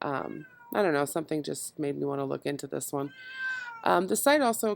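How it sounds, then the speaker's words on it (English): A cat meows a few times, close by, in short tonal cries under and between steady talking. "excuse my cat"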